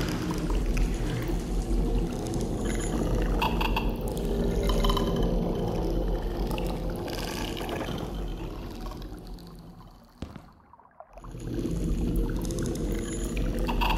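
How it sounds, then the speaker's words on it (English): Splashing and gurgling water fill the scene as a character falls into water in the video game LiminalCore and churns around, then a brief near-silent gap before the watery wash returns. "I hate falling in some water"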